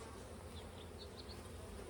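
Honeybees buzz in a steady, soft, continuous drone while a hive is opened and inspected during a colony split to prevent swarming, the hum staying even and faint throughout.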